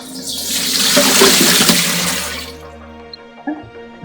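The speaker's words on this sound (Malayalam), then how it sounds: "അപ്പോൾ അത് ഒന്ന് ഊറ്റിയെടുക്കാം" Starchy water drains off soaked potatoes in a loud, close gush of pouring liquid that lasts about two and a half seconds, then stops, leaving a few small drips and light clunks.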